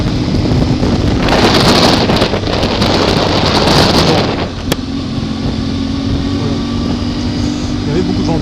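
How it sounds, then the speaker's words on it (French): Loud wind buffeting a helmet microphone on a moving motorcycle, a heavy rumbling roar that eases after a few seconds into a lighter, steady whoosh. "Il y avait beaucoup de vent."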